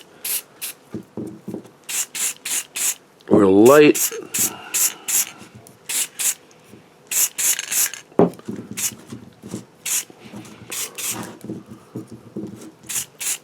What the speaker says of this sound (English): Just giving it a spray.